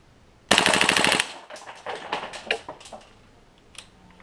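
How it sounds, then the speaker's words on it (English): An airsoft rifle fitted with an RA Tech flute and valve kit on an aluminum nozzle fires a loud, close full-auto burst of rapid evenly spaced cracks, followed by a few scattered single shots and clicks. "Alright, let's try a full auto here, see what she does."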